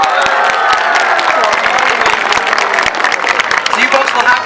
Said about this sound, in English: Let's give her a nice big round of applause.